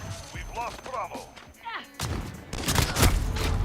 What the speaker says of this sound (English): How do I miss these shots?